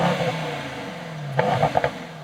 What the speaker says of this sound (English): Yeah, that's the 4-liter V8 bi-turbo, 612 horsepower, and here in the E63 S.